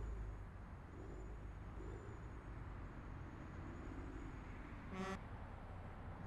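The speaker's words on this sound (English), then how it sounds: "That's the air horn." A deep, loud truck air horn in American Truck Simulator blasts once, briefly, over a steady engine drone and road rumble.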